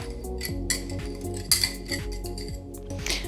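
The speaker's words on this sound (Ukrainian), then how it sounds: "Знову гарно перемішую до однорідності" Coconut batter with yogurt being mixed in a bowl, a steady run of clinking utensil taps and scrapes against the bowl with a faint low hum behind, no talking.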